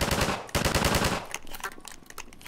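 Close, loud gunfire blasts from Half-Life 2, rapid shots hammering in quick succession and then breaking into sharper, scattered reports as the burst trails off.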